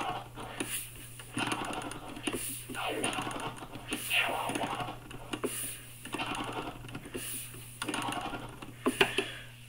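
Rotary transformer scratching on a turntable, the fader pulsed by turning a knob, gives rhythmic bursts of chopped scratch sound in repeating groups over a steady low hum.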